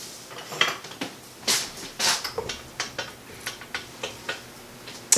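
A spatula scraping around a mixing bowl of chocolate chip cookie dough: a steady series of short scrapes and light clinks against the bowl, close and moderately loud, with no talking.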